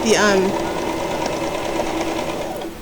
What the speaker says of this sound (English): So as I'm sewing this